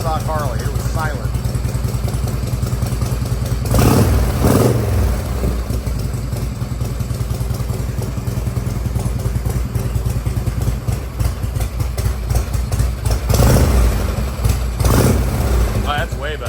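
A Harley-Davidson Shovelhead motorcycle idles close by with a steady, loping rumble and occasional louder swells. A person talks over it at times.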